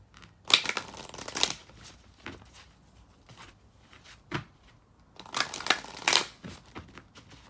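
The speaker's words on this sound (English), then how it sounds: "we're going to pull a card for the feminines and a card for the masculines" Keepers of the Light oracle cards riffle and rustle as the deck is shuffled, two clusters of crisp papery bursts separated by quieter handling and a few soft taps, close and fairly quiet with no speech.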